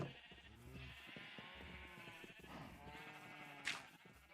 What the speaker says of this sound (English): Old school sheep farm.